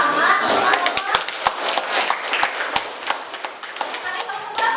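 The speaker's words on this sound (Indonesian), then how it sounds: "Oke, kita kasih tepuk tangan." Students in a classroom clapping for a group, a dense patter of hands with some sharper claps on top and voices mixed in, close and lively throughout.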